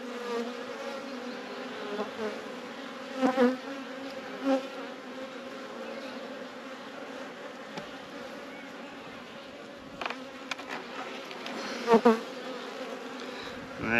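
Honeybees buzzing steadily around an opened hive during an April nuc inspection, a dense continuous hum close by, with a few individual bees flying past louder now and then.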